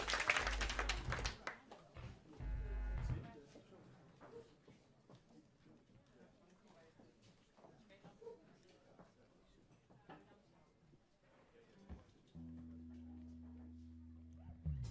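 A live audience at a televised music show claps loudly for a band for the first few seconds. The applause then fades into quieter talk and sparse taps, and a steady droning tone comes in near the end.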